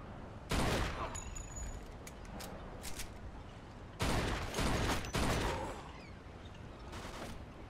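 Automatic gunfire in Mafia 2 rattles in several sustained bursts, one early, two later close together and another toward the end, with quieter scattered shots and mechanical clatter in the gaps, fairly close.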